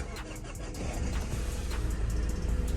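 A remapped Honda Civic with a 2.2 CDTI diesel engine push-button starts, the engine catching and settling into a steady, close idle rumble with light mechanical clatter, no voices.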